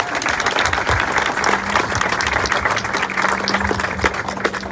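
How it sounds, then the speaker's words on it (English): A crowd at a city community event applauds steadily and loudly, dense clapping filling the whole stretch without a break. "give them a great round of applause for what they do for us here in the city"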